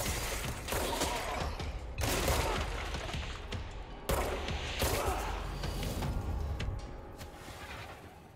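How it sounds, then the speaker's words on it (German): A weapon in Control rattles and clanks through a series of loud mechanical bursts and impacts, sharp hits repeating irregularly over several seconds. "Die Waffe reloadet automatisch."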